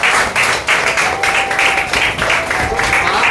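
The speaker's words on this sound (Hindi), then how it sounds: "मैंने बोला जोरदार ताली होना चाहिए।" Loud applause from the audience at a basic sales training session in Virar: dense, steady clapping that swells in repeated waves and fills the room.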